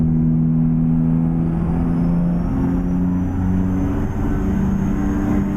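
A heavy truck engine in American Truck Simulator drones and builds steadily as it accelerates, a loud continuous low rumble with rising whine and no talk.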